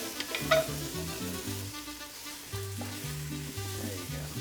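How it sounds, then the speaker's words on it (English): Onions sautéing in a pan while being stirred for a Cinco de Mayo dish, a soft steady sizzle with faint scraping of the spoon, fairly quiet and without speech. "let's go ahead and add the onions now. There you go. And then just give it a good stir, mix everything in."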